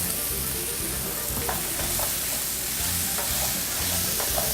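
Short ribs browning in hot fat for Italian-style braise, a steady loud sizzle and crackle with occasional stirring scrapes, no talking.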